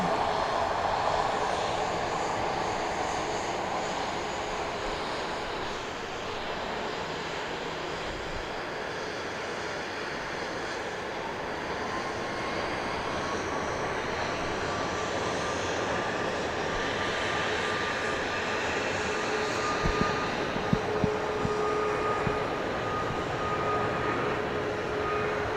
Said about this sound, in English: here comes a flight from San Diego